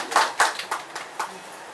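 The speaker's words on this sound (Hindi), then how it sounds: "मोहतरम सिराज डोंगरे साहब के लिए जोरदार तालियां" A small audience claps for an honored guest at an Urdu literary gathering, heard as a short run of separate, fairly faint claps spaced through under two seconds.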